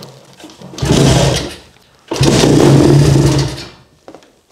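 Small engine is cranked and briefly catches, two loud revving bursts separated by a pause, each rising and dying away, close by with no talk over it.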